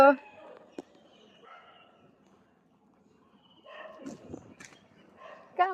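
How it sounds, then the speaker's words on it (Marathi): Dogs bark and yip in short, excited bursts close by, with a quiet pause in the middle before the noisy scuffle resumes. "इथे दुसरे कुत्रे आहेत ना त्यांच्यासोबत भांडणं चालू करतात"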